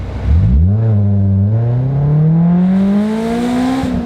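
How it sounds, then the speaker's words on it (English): A small 4-cylinder car pulls away from a stop in first gear, its engine note rising steadily and loudly through the rev range, close and without talk. "The first gear pull will come to a stop and take off."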